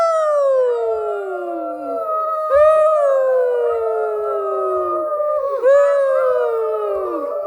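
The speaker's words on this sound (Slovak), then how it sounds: "Stanica Vlková. Ako vlk ho robí?" Long, drawn-out wolf howls rise and slide downward in a children's song about a little train stopping at a wolf station, with two overlapping howls renewed twice, loud and close with no talk.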